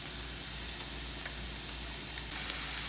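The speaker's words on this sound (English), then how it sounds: "We're going to saute these for about 5 minutes. 2 cloves of garlic." Two cloves of garlic sauté in a pan with a steady, even sizzle that holds at a constant level throughout, with no voices over it.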